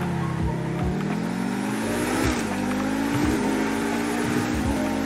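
Pegassi Tempesta sports car in GTA 5 accelerating hard, its loud engine note climbing steadily through several gear shifts with brief dips between them, continuous and close for the whole stretch.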